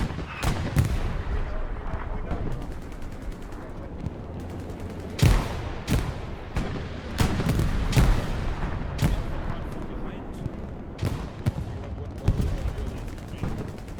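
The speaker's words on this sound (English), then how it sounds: "Artillery is supporting a push, which is good." Artillery fire in the video game Hell Let Loose, a steady barrage of loud booming blasts and gunfire bursts spread across the whole stretch, some near and heavy, others more distant, with voices talking over parts of it.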